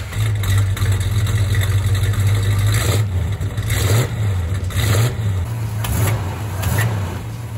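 A 1971 Plymouth Road Runner's V8 engine idles with a deep rumble close by and revs up several times in quick bursts, loud and unaccompanied by talk.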